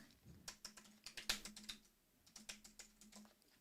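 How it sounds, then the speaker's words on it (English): Rapid, uneven typing on a computer keyboard, with bursts of distinct key clicks close by and a short pause partway through, and no talking. "Let's type something else in here."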